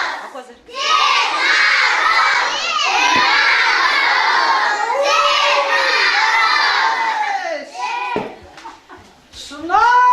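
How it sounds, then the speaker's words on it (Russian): A crowd of children at a New Year celebration in a district library shouts "Ded Moroz" together, loud repeated chanting calls filling the room, with short pauses and a final burst of shouts. "Что ж, давайте звать все дружно. Дед Мороз!"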